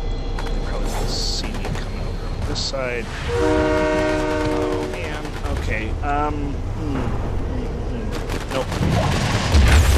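A train rolls through in the Fortnite video game, its horn blaring in sustained harmonic blasts amid clanking, rumbling wheels and scattered sharp game effects, with someone talking excitedly over the passing.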